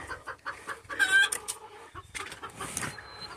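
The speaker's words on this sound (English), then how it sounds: "And there's the chicken girls." Backyard hens cluck close by in a busy, overlapping chorus of short calls, with one bird letting out a higher, drawn-out squawk partway through.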